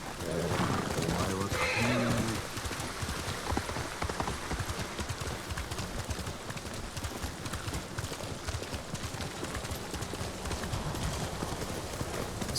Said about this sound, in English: Hey, look, a horse on a cliff.